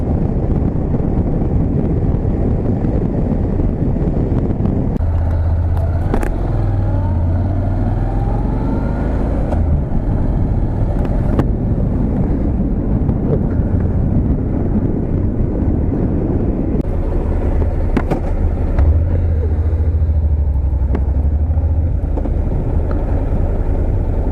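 Road traffic rolls past near a beach on a holiday weekend, with a steady wash of car engine and tire noise and wind buffeting, heard from inside a vehicle with no talk.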